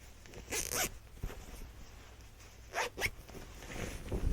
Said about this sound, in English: It does have a zipper here.